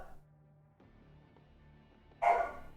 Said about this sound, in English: What is going on with those dogs?